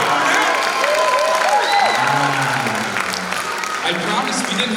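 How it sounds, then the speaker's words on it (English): An audience claps and cheers at a 4th and 5th grade band and orchestra spring concert, steady applause with whoops and a voice rising over it. "How about a big round of applause for our tech crew changing the lights?"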